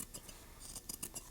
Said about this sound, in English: take my scissors and just trim around this